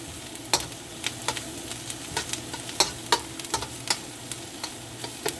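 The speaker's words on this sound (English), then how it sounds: "I'm just going to keep stirring them so that they don't burn" Food frying in a pan for Jamaican-style fried rice, with a continuous sizzle beneath repeated sharp scrapes and clicks of a spoon stirring at an uneven rhythm, close and fairly loud.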